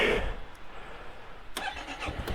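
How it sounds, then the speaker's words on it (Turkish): Yamaha XMAX 250 ABS scooter starting up on a winter day: a short starter whir fires into a steady low engine idle close by, with a few faint clicks and knocks afterwards and no voices. "Arka frenle beraber marşa bastım"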